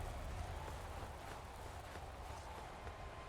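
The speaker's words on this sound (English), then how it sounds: "Is that like crunchy whispering sound? That sounds like static coming from the game" Faint, steady crunchy hiss like whispering static coming from inside Elden Ring, a low noisy texture that continues without a break across the few seconds.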